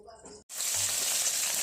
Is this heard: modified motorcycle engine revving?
no